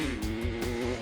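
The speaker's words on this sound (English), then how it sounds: "The pressure is on as Eric revs the bike." A motorcycle engine held at high revs as it runs toward a lake crossing at about 60 miles per hour, a steady buzzing drone with a strong harmonic tone, fairly quiet and unbroken.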